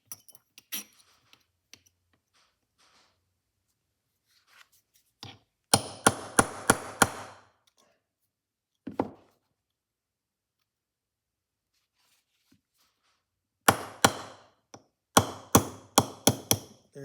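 Sharp metallic hammer blows knocking a pressed-in pin out of the ratchet of a key-wind Edison Gem phonograph, steel chunk with drilled holes as support; quiet stretches broken by two dense clusters of close, ringing strikes and a lone tap between.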